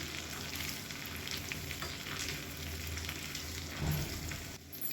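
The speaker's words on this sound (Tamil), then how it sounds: "இது எல்லாமே நல்லா பொன்னிறமாக பொரியட்டும்" Pepper and green chili tempering frying in hot oil for a pongal breakfast dish, a steady close sizzle and crackle throughout with a brief louder stir near the end, no talking.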